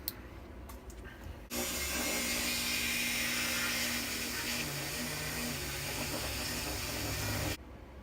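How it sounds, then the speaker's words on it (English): A Dremel polishing wheel working on a brake caliper from a 1984 Honda CB650SC, a steady buzzing whir with grinding friction that starts abruptly, runs about six seconds and stops, with quieter workshop handling noises before and after. "wheel on the Dremel and go in there and just polish everything out"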